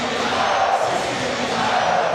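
A roaring arena crowd of about 12,500 Finland fans cheers in Helsinki after a EuroBasket 2017 basketball game against France, a steady, dense, loud wall of voices with no single speaker standing out.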